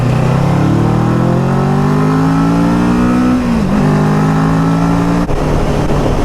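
A Kawasaki Versys 650 motorcycle engine revs under steady throttle, its tone climbing smoothly and loudly before dipping briefly, then holding high and cutting off abruptly near the end.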